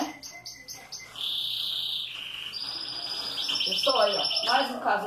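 Canaries in a breeding aviary with many chicks chirp and trill: high, sustained whistled notes and rapid buzzy trills, growing busier toward the end with fluttering lower chirps.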